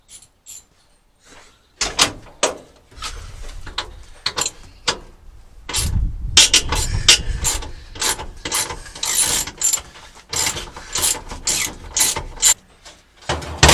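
Hand ratchet clicking as it loosens the steering column on a 1967 Chevy C50 truck, bursts of rapid close ratcheting with brief pauses, some metallic clunks and a louder stretch of steady cranking in the middle.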